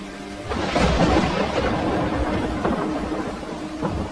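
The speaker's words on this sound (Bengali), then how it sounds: "ইলিশ রানী মণিমালা জলপরী হাতে করে জাদু করতেই আকাশে জোরে বিদ্যুৎ গর্জে ওঠে।" Thunder and rain in a cartoon, a deep rolling rumble that swells and lingers over a dense hiss of rain, loud and sustained with no voices.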